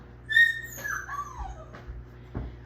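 Puppies whimper and yip in a short run of high, sliding whines, a couple of louder yelps near the start and a sharp cry near the end, fairly close by.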